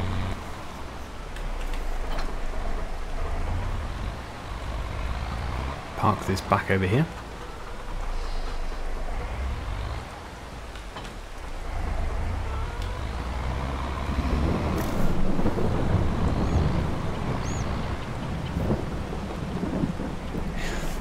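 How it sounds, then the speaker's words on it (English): Steady rain and low rumbling thunder in a Farming Simulator 22 farm world, a continuous broad wash with heavier swells, joined by the hum of a farm vehicle while someone talks over it. "Let's get rid of this rain."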